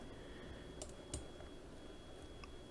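Computer mouse clicking while drafting in AutoCAD: a couple of faint, sharp clicks spaced apart over a quiet room hum, the last one slightly crisper, with no talking.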